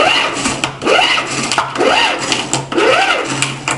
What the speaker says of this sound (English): it's got this crank on it. You can pull this to charge the battery.